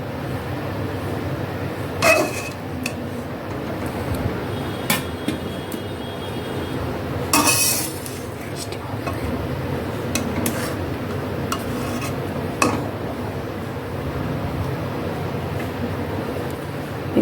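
A slotted spoon scrapes and lifts mango pieces from a pan while making homemade mango candy, giving sharp metallic clinks at scattered moments over a low, quiet kitchen background.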